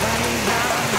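Heavy rain pours steadily over an outdoor market in Barangay Hundagwa, Lopez, Quezon, a dense continuous hiss filling the short stretch with no voices.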